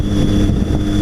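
Steady roar of a Kawasaki Ninja motorcycle riding on the road, engine drone blended with heavy wind buffeting on the microphone, loud and close throughout with no break.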